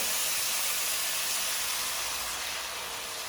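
Water poured into a pan of spiced meat for tacos sets off a loud, steady steam hiss that fills the whole moment without a break.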